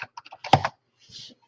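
A few quick keystrokes tap on a computer keyboard while logging into a Windows 10 guest account, close and crisp, with a short burst of clatter midway and a fainter shuffle after.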